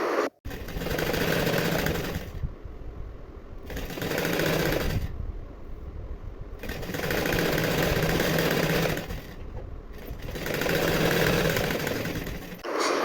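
A sewing machine stitches blouse sleeves in three long runs of rapid, steady mechanical whirring, separated by short quieter pauses, close and loud.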